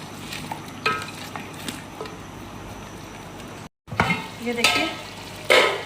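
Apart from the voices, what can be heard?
stirring fried onion masala paste into chicken and chickpeas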